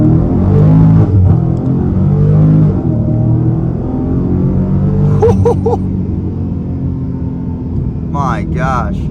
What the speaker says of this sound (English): looks like a good opportunity to try an acceleration off the line. No brake torque, just rolling start on the gas